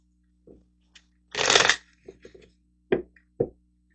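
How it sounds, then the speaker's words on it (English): A deck of tarot cards is shuffled close by in one brief riffling burst, then a few soft taps and flicks as the cards are handled in a quiet room. "let's get some tarot cards over here."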